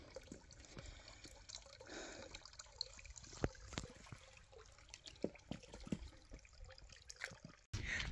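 Water from a mountain spring in the Banat Mountains trickles and drips steadily close by, in quiet surroundings with no talk, and a louder rush comes in at the very end.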